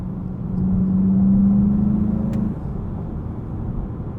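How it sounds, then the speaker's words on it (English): A 2020 Volkswagen Jetta GLI with a six-speed manual, driving in sport mode, gives a close, steady engine drone that swells into a sustained humming rev for a couple of seconds before settling back to a lower rumble. "You can hear how much louder it is in sport,"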